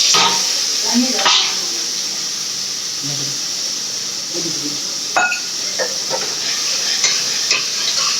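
Tomatoes sizzling as they are sautéed in oil while cooking a curry gravy, a steady hiss and crackle running throughout with occasional stirring clinks and scrapes of the pan.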